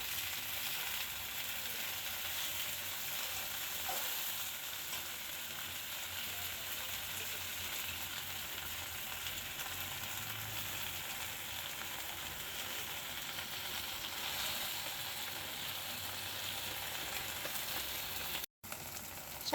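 Greens are frying in a pan beside onions that have already turned golden, giving a soft, even sizzle that runs continuously at low level and cuts out briefly near the end.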